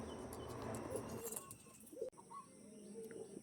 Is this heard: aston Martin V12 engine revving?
no